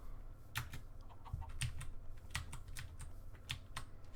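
Fingers tap a computer keyboard during a Minecraft stream, a fast, uneven run of sharp clicks up close with no talking.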